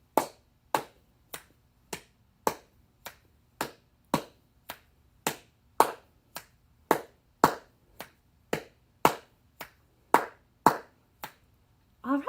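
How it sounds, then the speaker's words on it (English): Steady repeating pattern of bodily percussion in threes, a finger snap on beat one followed by two hand claps, crisp and close, about twenty sharp hits alone in a quiet room. "Let's snap for beat 1 and clap for beats 2 and 3."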